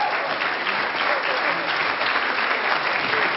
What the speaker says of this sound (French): Alors je vous demande de les applaudir.